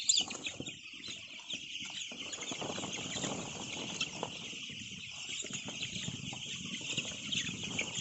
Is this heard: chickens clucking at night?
yes